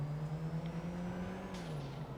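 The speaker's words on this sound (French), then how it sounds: "entendez bien surtout le bruit du moteur" A customized taxi's engine in a video game revs steadily with a turbo, a continuous mid-pitched drone that rises slightly and then eases off over about two seconds, with no speech.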